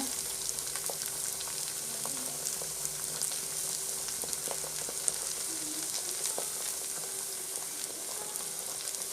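Thattai dough made from flattened rice (aval) and gram flour fries in hot oil, giving a steady, close, bubbling sizzle with fine crackles that runs the whole time with no voices.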